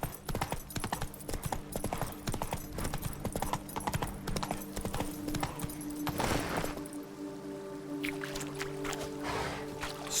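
Roach the horse trots in The Witcher 3, hooves clip-clopping in a quick, steady rhythm up close before slowing and fading toward the end.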